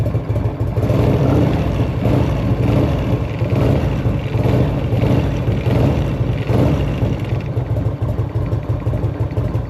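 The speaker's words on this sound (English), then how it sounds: "Oh, now it's revving." A 1984 Harley-Davidson FLT Tour Glide engine runs loud and close, holding a dense rumble with several brief swells as it revs, and no one speaking over it.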